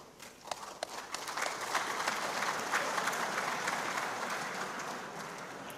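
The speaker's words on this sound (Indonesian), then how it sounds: "Tepuk tangan meneh." A large audience at a national work meeting bursts into applause that starts with a few sharp claps and swells into a sustained, dense roar, holding loud before easing slightly at the end.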